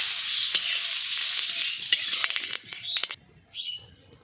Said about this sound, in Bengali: এই মাছটার ভাজা তেলের মধ্যেই আমি লঙ্কাটা ভেজে নেব।